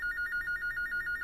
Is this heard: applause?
no